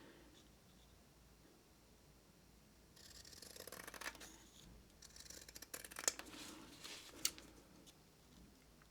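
Scissors trimming cross stitch fabric for a greeting card, quiet at first, then several close snips and rustling cuts in the second half, soft and intimate.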